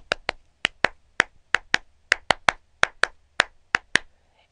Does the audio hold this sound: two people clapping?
yes